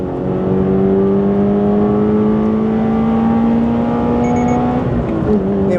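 A Toyota GR86 Cup race car engine drones on track at Buriram Circuit, heard from inside as a loud, steady, slowly rising note under sustained load, easing slightly near the end.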